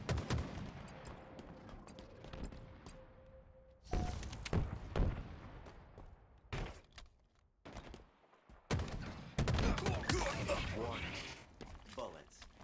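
Gunfire in the Halo video game: bursts of rapid shots and thuds come and go with gaps between them, fairly quiet overall, while players talk over the action.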